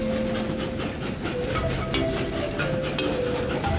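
Trains run in the video game Train Valley: a steady rolling rumble with faint rhythmic clicking and a few short tonal chimes from the game, moderately quiet and continuous.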